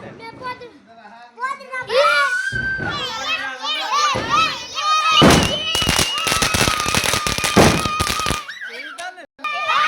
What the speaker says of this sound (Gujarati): અત્યારે ફેમિલી આ લગાવે છે તતડિયાની બોમ્બ ગોળ ગોળ ફરતે